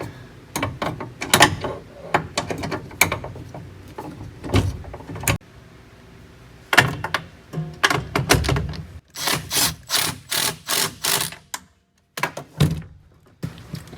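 Ratchet driving a 3/8 extension used as a socket on a bolt during a K24 engine swap into a Honda CRX, heard as close, mechanical clicking bursts and thunks with pauses, then a run of rapid even clicks near the end.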